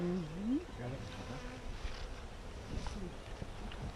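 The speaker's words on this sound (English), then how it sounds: "Let me shake the bees off of it." Honey bees buzzing close by, a dense droning hum with one insect whining loudly past at the start, over soft rustling.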